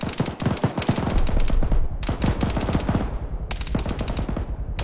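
Suppressing machine-gun fire in a military video game: rapid, continuous automatic bursts, loud and close, with brief gaps between strings of shots and no talking.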